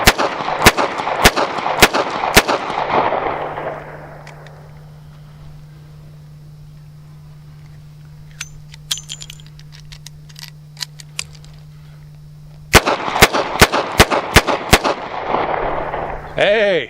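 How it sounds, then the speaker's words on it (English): A Rock Island Model 206 .38 Special snub-nose revolver fires outdoors, double action. Four loud sharp shots come in quick succession, then quiet mechanical handling clicks follow. A second fast string of five or so shots comes late. "I've never shot this, so this will be my first 6 rounds"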